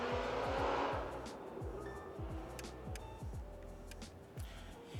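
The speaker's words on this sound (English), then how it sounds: "There's no reason for a car to be that fast." A fast car speeds along a New York City street, its engine revving hard with rising and falling pitch sweeps and some tire noise, loud and close throughout against busy street background.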